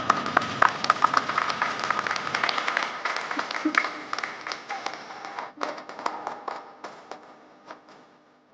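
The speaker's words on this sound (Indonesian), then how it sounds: "Tepuk tangan buat kita semua." Crowd applause at an August 17 Independence Day ceremony gathering: dense, close clapping with many sharp individual claps that gradually thins and fades, with a few faint voices.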